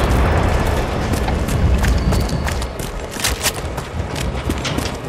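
Shotgun blasts from Resident Evil 3 (2020) crack out in a dense, noisy stretch of game combat, several sharp reports overlapping with rumbling effects throughout.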